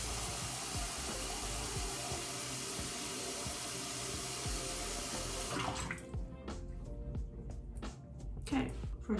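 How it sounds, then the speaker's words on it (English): Tap water running steadily into a sink for face washing, a loud continuous rush that cuts off partway, followed by quieter splashing and dripping as hands move in the water. "So let me just turn the water on"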